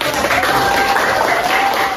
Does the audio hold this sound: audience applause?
yes